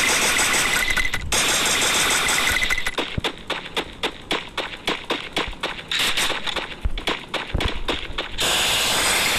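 Motorbike engine in an online battle game, a loud sputtering rev that pulses in a fast steady rhythm of throttle bursts, close up and alone with no talk over it.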